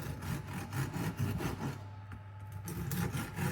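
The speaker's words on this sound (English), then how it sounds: "You want to use a serrated knife so you're not pressing down, you're sawing backwards and forwards." A serrated knife saws back and forth through hard, crunchy biscotti, a steady rasping rhythm of short scraping strokes close by.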